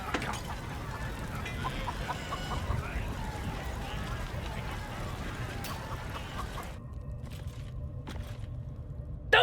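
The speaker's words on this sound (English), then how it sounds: "Keep him safe. Listen to him coo." A pigeon in the video game Baldur's Gate 3 gives soft, pulsing coos over a background of game ambience, with the scene quieting toward the end.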